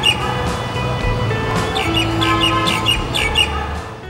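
Starlings and mynas of Bangladesh call loudly outdoors, a busy overlapping mix of repeated chirps, whistles and squawks close by over a constant background hum.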